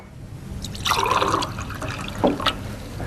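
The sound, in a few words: pouring cold water into a glass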